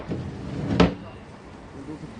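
A drawer of a wooden chest of drawers at a broadcast auction slides out with one short, solid knock partway through, set against quiet room noise and faint voices.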